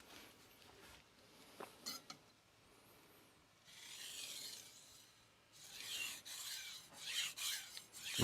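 A knife sharpened on a King resin-bonded diamond whetstone gives close, gritty rasping strokes. A few short scrapes come first, then longer, louder sweeping strokes back and forth.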